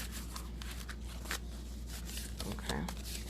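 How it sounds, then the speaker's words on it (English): Stiff tarot cards are shuffled by hand in quick, crisp riffling flicks and soft slaps, close and quiet, over a low steady hum. "These are so hard to shuffle."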